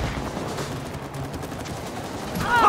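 Rapid gunfire from the co-op video game It Takes Two, a dense continuous crackle of shots held throughout at steady loudness, swelling slightly near the end.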